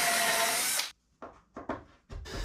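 A power drill boring a pilot hole through a counterbore in plywood shelving, a loud sustained whine that cuts off, followed by a few short bursts of the drill restarting up close.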